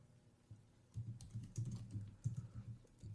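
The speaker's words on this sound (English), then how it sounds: "You hear me typing?" Someone types on a computer keyboard in a quick, uneven patter of soft keystrokes, faint and steady with no talking.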